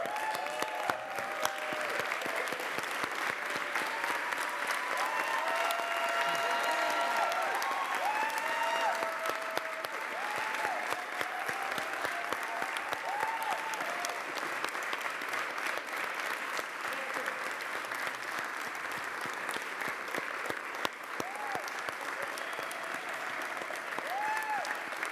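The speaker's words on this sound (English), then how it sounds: "would you all stand up and give our Finance Division a round of applause?" An audience at a city council meeting gives the finance division a sustained round of applause, with steady, even clapping throughout and faint voices underneath.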